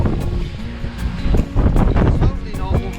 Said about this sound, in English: Strong gusting winds.